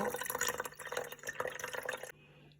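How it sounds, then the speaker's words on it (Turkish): Steeped rose syrup trickles and drips through a strainer into a container, a soft, close liquid pour that stops abruptly near the end. "akşamdan e, demlemiş olduğum gül şerbetini süzüyorum"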